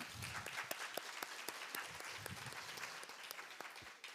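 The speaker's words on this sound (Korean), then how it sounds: "큰 박수 주세요." Audience applause at a Catholic university semester-opening Mass, dense irregular clapping heard at a distance, fairly faint but continuous through the whole stretch.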